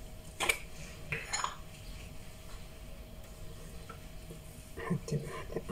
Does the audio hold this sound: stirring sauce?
yes